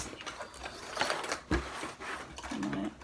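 A home sewing machine stitches the seam allowance on an upcycled zip pouch, giving short bursts of mechanical whirring and rapid needle chatter broken by brief pauses, close and moderately quiet.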